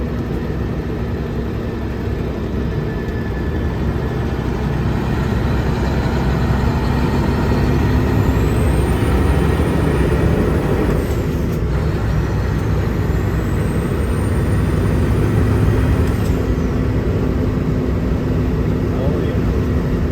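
A Kenworth K100 truck engine runs at a steady idle, a close, loud, continuous low rumble with a whining hiss above it that holds for the whole stretch.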